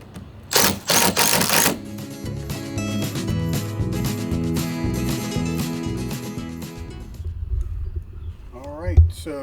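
Power driver buzzing in short bursts as screws are tightened into a wooden raised garden bed, loud whirring at the start then a steady mechanical hum, ending with a brief squeal.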